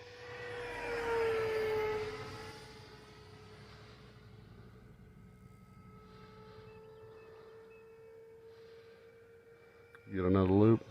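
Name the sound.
E-flite F-15 Eagle 64mm model jet flying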